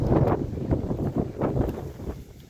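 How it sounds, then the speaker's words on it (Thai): Strong wind buffets a microphone in an open watermelon field, producing a continuous low rumbling roar with repeated gusty surges and no talking. "ลมก็แรงวันนี้ลมแรง"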